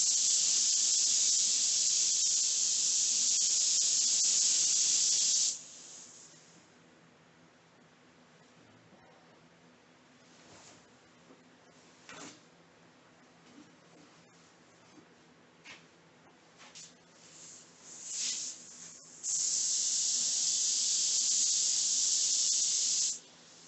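Spray gun coating a Ford Ranger with paint, a steady loud hiss in two long bursts at the start and end, with quieter shop noise and light handling sounds between them.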